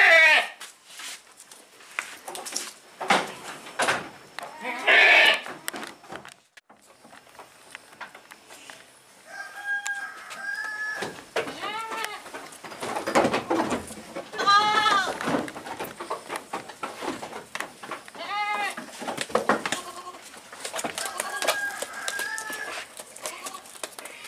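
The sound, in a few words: goats bleating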